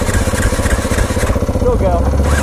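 A motorcycle engine runs close by, its steady throbbing idle swelling as the throttle is opened, with people talking over it throughout.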